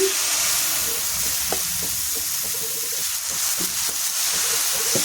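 Dosa batter sizzles steadily on a hot oiled pan for a spicy Rayalaseema karam dosa, a continuous close frying hiss with small crackles and no talk.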